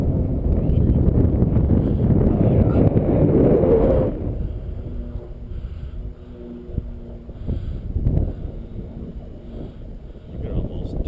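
Strong wind gusts batter the microphone outdoors while a drone is flown, loud and rumbling for the first few seconds, then easing into a lower buffeting with faint hum and occasional bumps.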